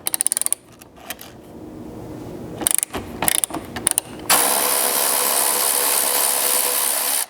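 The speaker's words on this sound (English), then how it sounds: "That'll expose a single bolt head here that you'll have to remove again with your 12mm socket." A 12mm socket wrench ratchets quickly as a bolt is loosened during a Lexus GX roof rack install, coming in close clicking bursts, then a steady loud rushing noise takes over.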